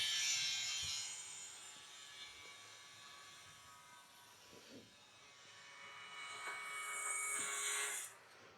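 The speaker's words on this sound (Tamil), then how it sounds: "கன்ஸ்ட்ரக்ஷன் வேறு போயிட்டு இருக்குது" Construction work with sawing carries on nearby outdoors on the road to Kodaikanal, a faint rasping, grinding texture that rises and falls across the stretch, with no voices over it.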